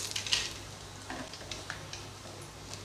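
Faint crackling and sizzling as cinnamon, cloves and cardamom fry in hot oil, with scattered pops and a low steady hum underneath.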